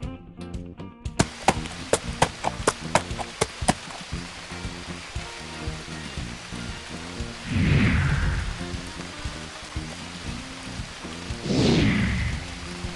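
Video game sound from a Wild Kratts kids' app: steady rain patters under a series of sharp clicking taps, followed by two rolling rumbles of thunder a few seconds apart.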